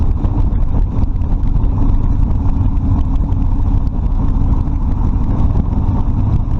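A Harley-Davidson Sportster Custom 1200 motorcycle rides over the International Speedway Bridge in Daytona Beach, a steady, loud, low engine rumble mixed with rushing wind noise throughout.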